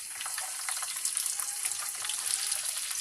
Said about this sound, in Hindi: उसमें हम ये जो परवल है इसको हम फ्राई कर लेंगे और डीप फ्राई करने हैं